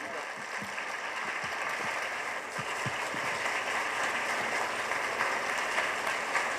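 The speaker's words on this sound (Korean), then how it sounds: "큰 박수 부탁드립니다." Audience applause welcoming a guest lecturer onto the stage at a talk event, a steady wash of clapping that runs the whole time at a moderate level.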